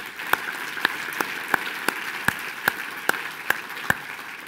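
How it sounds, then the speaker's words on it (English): Sparse, evenly spaced hand claps ring out in a conference hall, about ten sharp claps over a few seconds, moderately close and alone with no talk, more like one or two people clapping than a full audience. "Let's give Ben a round of applause."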